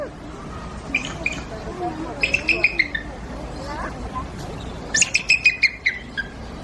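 A bald eagle at a zoo exhibit gives repeated high, chattering call bursts in two rapid series, heard over crowd murmur and a voice talking nearby.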